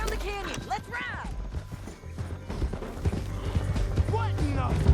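Horse hooves clip-clopping at a riding pace in Red Dead Redemption 2, close and rhythmic under a character's speech, with a horse whinny and game music mixed in.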